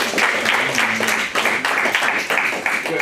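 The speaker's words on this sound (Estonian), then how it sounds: "Aplaus siis neile jah." Audience applause at a 2013 robotics science competition, steady dense clapping filling the whole stretch at a fairly close, even level with a faint voice underneath.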